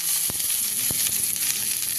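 Chicken dopeyaza with added tomato sizzles steadily in a frying pan, a close, continuous hiss with a few sharp clicks and stirring knocks scattered through it and no talking.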